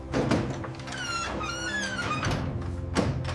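A door slides and thunks shut with a brief squeak, followed by a second solid thud as it latches, close by over a low background rumble in a kulfi ice cream factory, temperature at -20.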